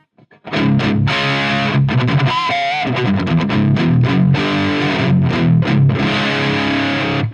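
An electric guitar played through a modified Marshall JCM800 amp with the master cranked, loud saturated distorted chords ringing in a steady strummed rhythm with brief gaps, alone with no talking.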